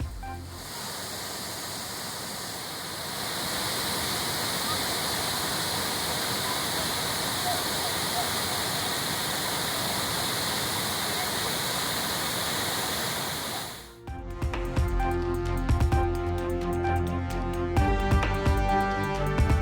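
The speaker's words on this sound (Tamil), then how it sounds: "திருப்பரப்பு அருவியில் தண்ணீர் ஆர்ப்பரித்து கொட்டி வரும் நிலையில்" Heavy water roaring down Thirparappu waterfall in flood after heavy rain, a loud, steady broadband rush that continues for about fourteen seconds and then gives way abruptly to music.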